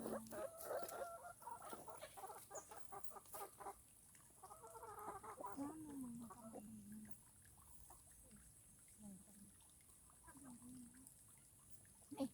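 Chickens cluck in the background behind a rural outdoor scene, soft repeated clucks and calls with faint voices nearby.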